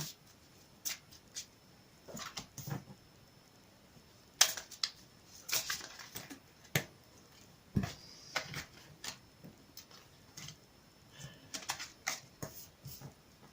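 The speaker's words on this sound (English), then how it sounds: "I'll give it a quick shuffle for you on camera" Soft, quick riffling and snapping bursts of a tarot card deck being shuffled, coming in irregular flurries with quiet pauses, close and fairly faint.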